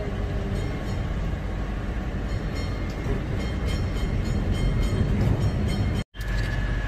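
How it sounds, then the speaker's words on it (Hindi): An air-conditioned tram runs through Kolkata with a steady, continuous rumble and rattle of wheels on rails throughout, heard from inside the carriage, with a brief cut near the end. "ये वाला जो ट्राम है ये एसी ट्राम है, कोलकाता का।"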